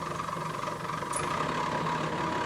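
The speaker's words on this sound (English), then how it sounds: "We turn our saw on." A water-cooled rock saw for cutting rocks runs with a steady, moderately quiet motor hum and a sustained mid-pitched whine, with one brief high chirp partway through and no voices.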